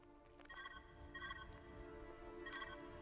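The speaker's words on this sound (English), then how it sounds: "Phone call!" Video game phone ringing in repeated electronic bursts, three or four short trilling rings spaced about a second apart, faint over a low background hum.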